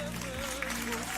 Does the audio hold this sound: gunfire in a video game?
no